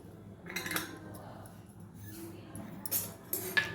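A spoon stirs ajwain and spices roasting in a pan, with faint scraping and occasional light metallic clinks close by and a low background hum throughout.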